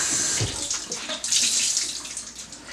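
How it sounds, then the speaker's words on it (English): Washcloth rinsed under running tap water at a bathroom sink, a close, steady splashing rush with shifting gurgles as the cloth moves through the stream, no talking. "And when you rinse your rag,"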